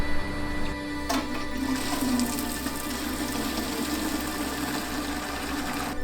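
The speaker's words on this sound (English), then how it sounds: "now we're going to fill up our 19 litre sparge pot to about 18 litres" Water running steadily into a 19 litre sparge pot for brewing, a continuous close rushing and splashing flow that starts with a sharp change in tone about a second in and holds level, with no talk.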